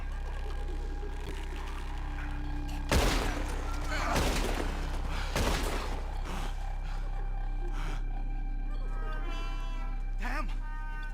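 Sharp shots in the Red Dead Redemption 2 video game, set in Guarma: a few loud cracks spaced a second or so apart over a steady background hum, with shouting voices around them.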